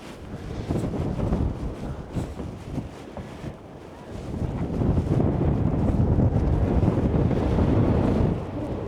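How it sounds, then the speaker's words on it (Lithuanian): Strong wind gusts outdoors at a castle, roaring continuously across the microphone for the whole stretch with a loud, buffeting rush that swells even stronger in the latter half before easing near the end. "Tu nepatikėsi, čia taip gerai girdisi tas vėjas."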